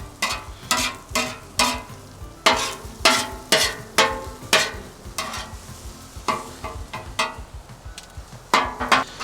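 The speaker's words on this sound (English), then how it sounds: "Always keep them eggs moving. Scrambling eggs is not gonna take too long." Eggs are scrambled on a Weber Slate griddle, a spatula scraping and tapping across the hot surface in quick, irregular strokes over a soft, steady sizzle, close and without talk.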